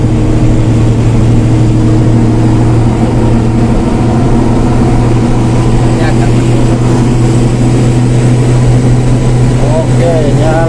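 A loaded Hino Ranger 500 Euro 4 truck, carrying 39 tons, drones steadily with a deep, continuous engine hum while overtaking other trucks, the sound close and constant throughout.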